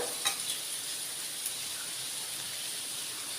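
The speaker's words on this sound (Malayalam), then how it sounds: "അപ്പോൾ സവോളയൊക്കെ നന്നായിട്ട് വഴറ്റി വന്നിട്ടുണ്ട്" Sliced onions sauté quietly in a pan for beef chops, a soft, steady sizzle with a couple of faint scrape or stir clicks near the start.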